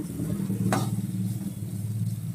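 Onion and spice masala sautéing in a pan for tilapia curry, a quiet steady sizzle with a brief scrape of a spatula, heard alone without talk.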